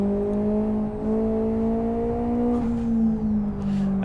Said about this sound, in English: There's just some rumble, an engine, a very small dentist drill.